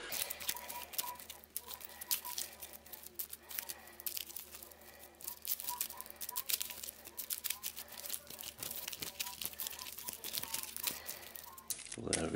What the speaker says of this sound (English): shuffle it and the remainder of the encounter cards together to form an encounter deck